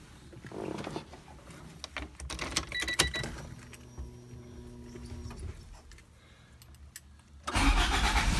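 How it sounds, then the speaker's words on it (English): A Honda Civic EG engine cranks and catches, then idles with a low steady hum that drops down pretty low before revving loudly near the end. "just to start it, get the car going, get it used to running"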